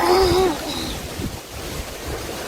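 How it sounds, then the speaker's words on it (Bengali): Strong wind buffets and roars over a fast-flowing river, with rushing water beneath the gusts; a voice is briefly heard at the start. "নদীতে প্রচুর স্রোত, প্রচুর স্রোত, প্রচুর বাতাস হচ্ছে চারিদিকে।"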